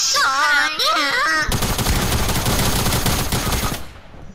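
Fortnite gunfire rattles in a dense, sustained automatic burst lasting a few seconds. It is loud and close and follows excited high-pitched voices, then cuts off abruptly.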